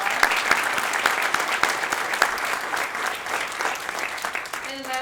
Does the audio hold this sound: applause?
yes